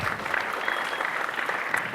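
Steady audience applause at a juggling show, a dense even wash of many hands clapping at moderate distance, sustained without pause for a couple of seconds.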